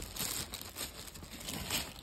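A thin plastic bag crinkles and rustles as someone unpacks a newly delivered ring lamp. Soft, close crumpling comes in uneven bursts, quiet and with no voices.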